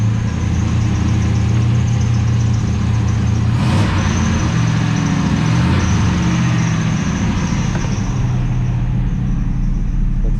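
A Toyota Hilux 4x4 with a turbocharged LS V8 engine runs steadily with a loud, close, continuous rumble, along with whining belt noises and faint rattles throughout.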